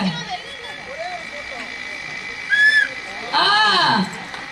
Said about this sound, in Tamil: இந்த பஸ்ஸுக்கு, நம்ம பஸ்ஸுக்கு இப்படி தாண்டா விசில் ஊதணும்.